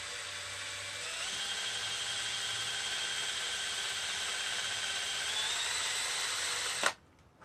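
A Dremel rotary tool fitted with an attachment, not a drill bit, whines steadily at a high pitch for nearly seven seconds, close and loud, then cuts off abruptly.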